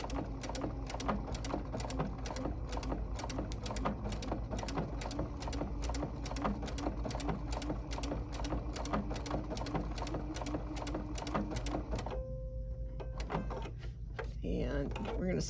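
Sewing machine stitching a blind hem, a quiet rhythmic run of rapid needle beats with a regular jump pattern, continuing for about twelve seconds before stopping, followed by faint handling noises.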